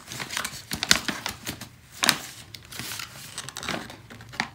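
A small paper envelope is opened by hand: close, irregular crinkling and rustling with a couple of sharper tearing rips, no voices.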